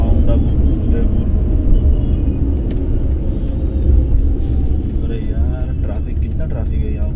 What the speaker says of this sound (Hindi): ट्रैफिक है यहाँ पे, बहुत ट्रैफिक है।